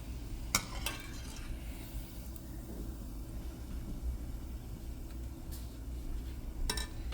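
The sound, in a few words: gulab jamun balls frying in oil, stirred with spider strainer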